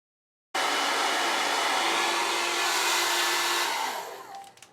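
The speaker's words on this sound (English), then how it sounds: "First thing we're doing is heating up that nut." A hot air heater blows steadily on a guitar nut to loosen it, a loud, even rushing hum that starts abruptly, holds for about four seconds, then fades out.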